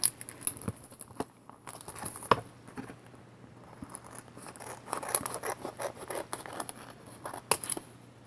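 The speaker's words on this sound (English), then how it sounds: "get some scissors and open these up." Scissors cut open a package of silk screens in a series of sharp close snips and crisp plastic rustles, scattered irregularly between quieter handling sounds.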